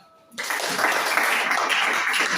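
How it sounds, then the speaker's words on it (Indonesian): A classroom audience breaks into steady applause after a quiet moment, dense clapping from many hands that stays loud and even to the end. "Berikan aplaus."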